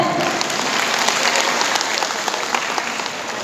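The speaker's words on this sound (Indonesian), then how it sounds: "Tepuk tangan semuanya." An audience at a Himpaudi Cirebon workshop applauds with dense, continuous clapping that holds steady at a fairly loud level for the whole stretch.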